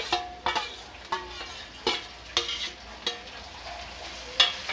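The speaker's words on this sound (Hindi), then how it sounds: "अच्छे से लाल करके भून लेंगे तो देखिए हमारा प्याज थोड़ा लाल हो गया है" Onions fry in a pan for bread pakora while a spoon stirs them, giving a steady soft sizzle broken by about a dozen sharp scraping strokes in an irregular rhythm, close by.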